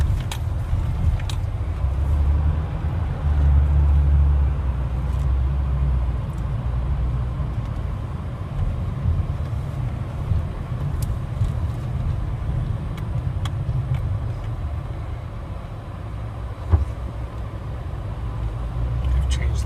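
A car rolls into a tunnel beneath the Pensmore Mansion in the Ozarks. A steady, enclosed low rumble of engine and road noise runs throughout, with a brief knock near the end.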